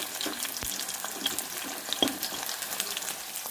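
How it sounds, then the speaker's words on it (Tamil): Bitter gourd slices fry in hot oil, giving a steady soft sizzle with scattered sharp crackles and pops, fairly quiet and close, with no talking. "சவுண்டு அது கொதிக்கிற அதை வெடிக்கிற சவுண்டே கேட்குது"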